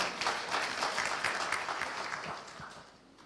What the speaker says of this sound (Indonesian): Yang setuju berikan tepuk tangan yang meriah.